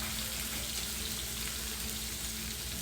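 Food browning in a hot skillet, a steady, even frying sizzle with a constant low hum beneath, close and moderately loud, with no voices.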